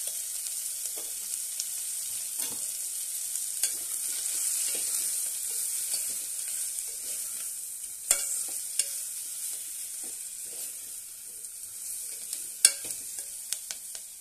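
Sweet pumpkin curry frying with salt and chilli powder, a steady bright sizzle with intermittent spoon scrapes and clinks against the pan while stirring, close and unbroken by any voices.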